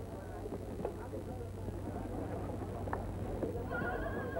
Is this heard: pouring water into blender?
no